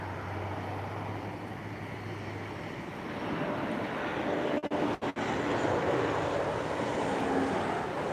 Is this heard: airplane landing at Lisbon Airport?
yes